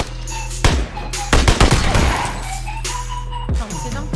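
Gunfire in PUBG: several sharp, close shots and short rapid bursts at irregular intervals over a steady low background hum, with one dense cluster near the middle and no speech.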